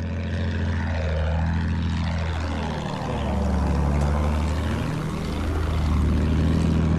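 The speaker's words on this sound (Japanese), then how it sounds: "敵の飛行機だ。" An enemy propeller aircraft in a video game drones past loudly, its engine pitch sweeping down and up again as it flies by, over a steady low rumble and no voices.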